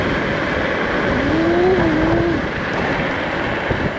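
Nami Klima 60V electric scooter with dual 1000 W motors accelerating, a steady rising motor whine heard up close over constant wind and road rumble.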